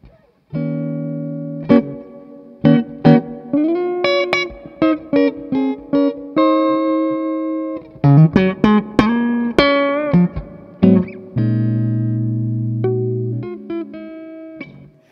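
Clean electric guitar through a Divided by 13 EDT 13/29 tube amp head, a series of plucked chords and single notes with sustained ringing tones, played alone.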